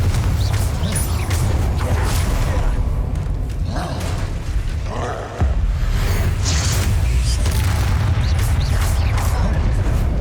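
Fiery Incendio and Confringo spell blasts in Hogwarts Legacy, heavy booming bursts over a dense, loud combat rumble that stays constant throughout, with one sharp impact near the middle.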